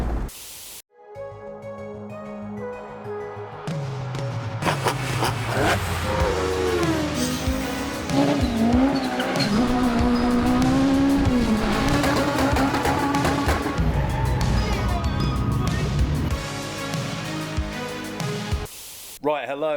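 A Mk3 car drives hard on race gas, its engine roaring loudly and continuously while the tyres squeal and it torque steers, with a brief pause near the start and a sudden cut at the end.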